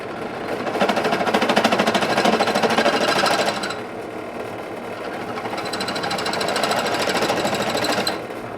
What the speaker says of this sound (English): Drill is spinning faster than I would like it to, but that's as slow as this drill press will go.